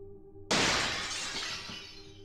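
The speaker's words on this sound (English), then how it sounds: "I heard the sound of shattering glass from my living room." Glass shatters in a living room: a sudden loud crash breaks in after a quiet hum, followed by a bright, sustained scatter of falling shards that slowly fades.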